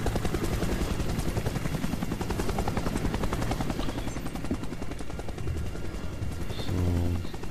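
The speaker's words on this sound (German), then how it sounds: "War der nicht ziemlich nah, der Hubschrauber? Ach, da, der fliegt." A helicopter flies in a Resident Evil game, its rotor a loud, fast, steady chopping throb that fills the whole stretch and swells slightly near the end, with no talking over it.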